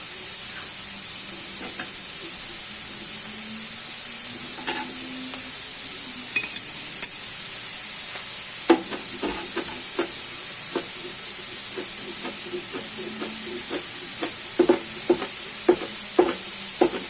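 Mixed vegetable fried rice hisses steadily in a hot pan with oyster sauce, while a spatula scrapes and clatters in irregular strokes that grow more frequent toward the end.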